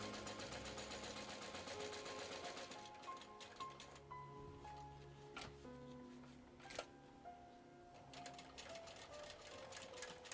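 A sewing machine stitches the seams of a fabric carry-all bag at a shorter stitch length, a steady close hum running throughout with a few light clicks and taps over it.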